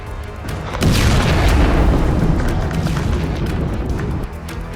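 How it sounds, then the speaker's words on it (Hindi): A heavy, deep boom from US-Israeli airstrikes on Tehran swells into a sustained loud rumble lasting several seconds before easing off. "अमेरिका इजराइल की ताबड़तोड़ एयर स्ट्राइक से कई जगह धमाके हुए और हर धमाके के साथ जमीन कांप उठी।"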